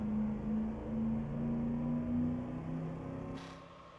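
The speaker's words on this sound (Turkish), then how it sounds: "Arabanın sesi burada gerçekten ya sesini güzel yapmışlar." A Mercedes-Benz C 63 AMG S engine in Euro Truck Simulator 2 drones steadily, its pitch climbing and dropping in steps as gears change, loud and close with no voices over it.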